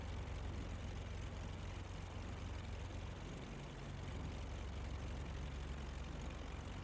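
A twin-engine aircraft taxis and brakes at Berlin in Microsoft Flight Simulator, giving a steady, faint, low propeller-engine drone with little change throughout.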